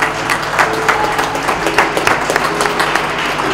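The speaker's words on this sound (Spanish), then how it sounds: "Denle un aplauso poderoso." A church congregation at a Bolivian revival service claps in a lively, uneven burst, many hands close together in a steady wash of applause that holds at an even level.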